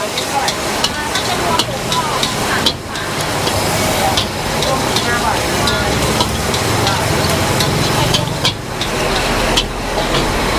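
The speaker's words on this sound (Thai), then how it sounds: "อันนี้ผัดเครื่องในเหรอคะ" A wok of pork offal stir-fries at a busy street food stall, a loud, dense sizzle with repeated spatula scrapes and clanks, people talking nearby and traffic rumbling low underneath.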